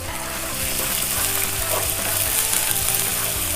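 Ginger and garlic fry in a pan with a steady, close sizzle, joined by a faint low rhythmic tonal hum throughout; no one speaks.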